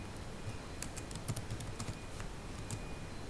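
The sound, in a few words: typing QBasic code on a computer keyboard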